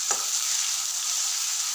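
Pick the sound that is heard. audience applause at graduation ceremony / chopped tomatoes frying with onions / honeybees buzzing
chopped tomatoes frying with onions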